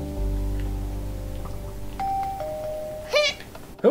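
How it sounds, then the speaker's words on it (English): A Minecraft doorbell chimes two clear descending tones over a low background hum, followed moments later by a brief burst of higher-pitched game noise near the end. "I want to hear the doorbell"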